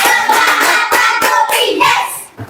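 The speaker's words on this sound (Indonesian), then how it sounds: "Tepuk semangat." A group of schoolchildren in a fifth-grade classroom doing a rhythmic 'tepuk semangat' clapping chant, with loud, close, patterned handclaps in quick bursts blended with their chanting voices.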